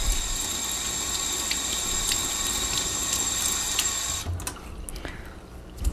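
Water runs steadily from a tap while a paint brush is rinsed under it, a close hissing stream that cuts off partway through, leaving quiet drips and small handling sounds.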